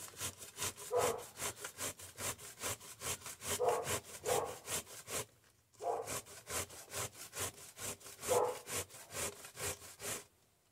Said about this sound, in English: if you've never used a box grater, be careful.